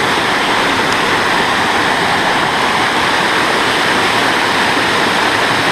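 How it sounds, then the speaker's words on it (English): Roaring river rapid swollen by heavy rain on a forest trail, a loud, steady rush of churning water close by that fills the whole scene without letup. "This thing is a roaring rapid."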